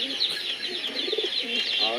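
Pigeons coo and chirp nearby in a feed shop while one is held by hand, with soft repeated cooing and bird calls overlapping continuously.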